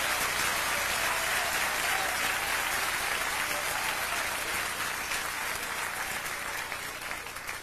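Sustained applause from a church audience fills the whole stretch, a dense, steady clatter of many hands that holds loud and only eases slightly toward the end.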